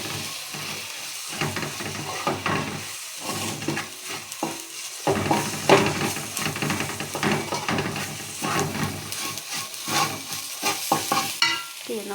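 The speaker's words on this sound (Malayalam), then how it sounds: "നമുക്കിനി എടുത്ത് വെച്ചിരിക്കുന്ന മസാലപ്പൊടി ഇതിനകത്തേക്ക് ഇട്ട് കൊടുക്കാം കേട്ടോ. ഓക്കെ, നമുക്ക് ഇളക്കി കൊടുക്കാം." Masala powder is stirred into tomato and soya chunks frying in a pan, giving a steady close sizzle broken by repeated scraping strokes of the spoon, with no talking.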